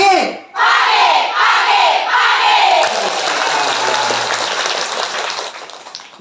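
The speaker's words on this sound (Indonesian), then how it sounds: "Pagi, tepuk tangan." A group at a scouting-style morning session bursts into loud shouts and rhythmic clapping, with a few collective yells followed by sustained, close-up clapping and cheering that tapers off.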